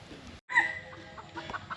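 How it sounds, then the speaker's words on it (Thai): A chicken gives a few short, quiet clucks close by, with a brief higher call among them over low background noise in a rice-farming setting. "ไก่"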